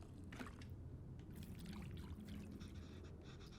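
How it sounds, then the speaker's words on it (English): Water poured into a bowl of tamarind in the cooking video game Venba, a soft, steady trickling pour heard close and fairly quiet, with no speech. "Back in the bowl. Add some water."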